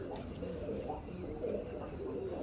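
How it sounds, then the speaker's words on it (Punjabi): Pigeons at Darbar Sahib give soft, repeated low coos over a steady background hum, faint and without talking. "ਆ ਵੀ ਕਬੂਤਰ ਬਹਿਣ ਆਇਆ ਤੇ ਹੋਰ ਕਬੂਤਰ ਕਿੱਥੇ ਆ ਉੜਦੇ"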